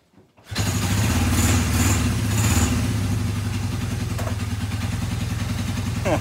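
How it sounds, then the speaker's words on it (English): A Kawasaki KZ750 motorcycle engine catches after a kickstart and settles into a steady, loud, close idle with a throbbing exhaust rhythm. "Now I just want to see if I can kickstart it."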